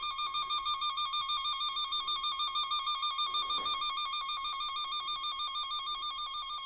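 A wire tracer probe's steady electronic warbling tone, following a signal along a car's electrical wiring, pulses rapidly and continuously at close range, loud and unbroken, with a faint rustle partway through.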